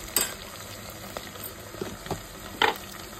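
Onions frying in oil with turmeric being added for a mutton aloo curry, a low continuous sizzle broken by several distinct stirring scrapes and clacks, loudest near the end, no voices.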